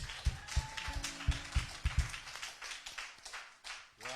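Rhythmic group clapping during a Sunday praise service at a church, sharp repeated claps in a steady beat that keeps going, fairly close, with no one speaking over it.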